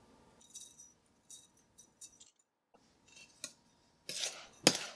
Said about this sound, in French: Je mélange le tout dans un bol